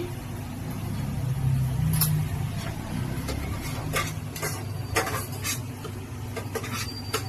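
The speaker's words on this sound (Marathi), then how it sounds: "हा मसाला खूप छान भाजून घ्यायचा आहे" Masala for mutton curry frying in a pan, stirred with scraping clicks and light taps over a steady low sizzle, close and moderately loud, with no voices.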